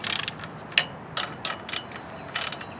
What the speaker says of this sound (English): Just snugging them down real quick before I torque them.